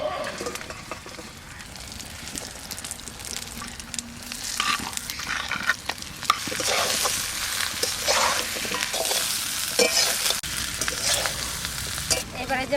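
Chicken pieces frying with spices in a pan for a masala curry, a continuous close sizzle that grows busier partway through, with repeated scraping stirs throughout.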